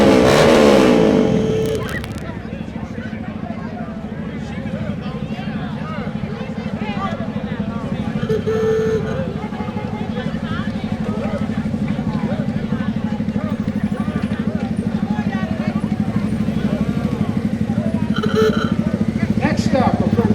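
Cars of the Caribbean Cruisers Car Club roll past the reviewing stand at the 2023 George Washington Birthday Parade in Alexandria, Virginia, making a steady, low engine rumble after a loud opening blast, with voices mixed in.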